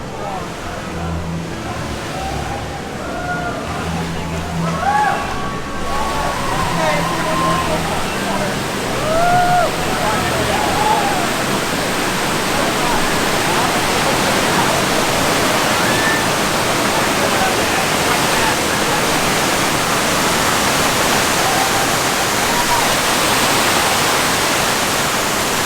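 A loud, steady roar of rushing water surrounds the listener inside the water vortex of the Poseidon's Fury attraction at Universal Studios Islands of Adventure. The water noise is continuous throughout, with voices faintly audible beneath it.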